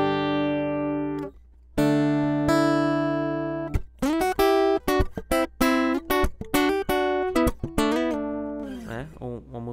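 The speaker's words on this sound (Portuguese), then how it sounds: "esse aqui é o som do violão cru" A clean Martin HD-28 acoustic guitar, miked and unprocessed, played alone, close and clear, starting with a few sustained strummed chords and moving into quicker picked notes and short phrases.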